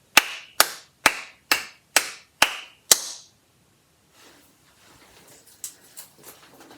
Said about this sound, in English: I'm going to clap it again